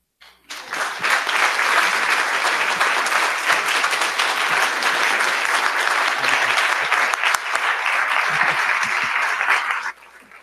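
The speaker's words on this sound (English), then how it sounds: "Please let's give them another round of applause." A congregation bursts into sustained applause after a Sunday message, dense and even clapping from many hands for about nine seconds before stopping abruptly.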